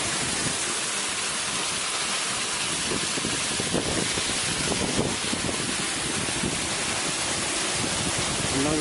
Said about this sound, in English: There's falling water